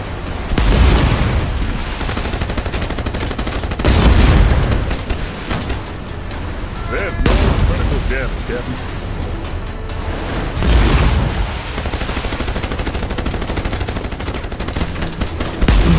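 Heavy gunfire booms out in an Age of Water naval battle, loud bursts of shots and explosions recurring every few seconds over a dense rumbling background, with no voices.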